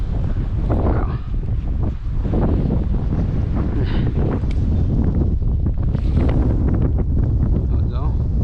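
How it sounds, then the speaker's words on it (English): Strong wind at a rocky shoreline while fishing, buffeting the microphone in a loud, constant roar with gusting texture and a faint wash of water beneath it. "Ah, man, this wind"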